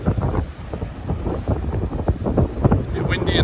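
Gusty wind buffeting the microphone at Salmon Point on Rottnest Island on an overcast day, a steady low rumble with irregular surges throughout.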